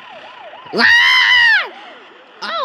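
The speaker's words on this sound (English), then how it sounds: "I thought the police car was gonna get me!" A police car siren in the physics crash game Turbo Dismount wails in a steady rising and falling cycle throughout, loud and close, while a person shouts and exclaims over it.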